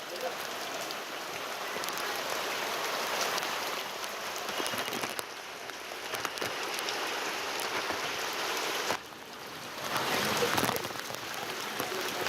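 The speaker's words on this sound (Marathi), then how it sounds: "जिल्हाधिकारी कार्यालय परिसरातच पाऊस पडतोय" Rain patters steadily on surfaces around the district collector office premises, a dense moderate hiss with brief dips and swells, while faint background voices murmur underneath.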